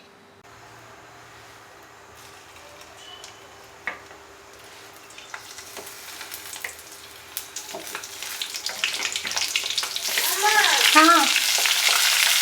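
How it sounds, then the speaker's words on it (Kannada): Stuffed brinjal fries in hot oil, the sizzle starting soft and building steadily to a loud, crackling spatter, with a few clicks of handling and a brief voice near the end. "ಓಕೆ, ನಾನು ಎಣ್ಣೆಲೇ ಫ್ರೈ ಮಾಡ್ಕೊತೀನಿ ಫಸ್ಟು."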